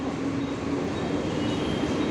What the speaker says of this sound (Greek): Ας φύγει το τρένο.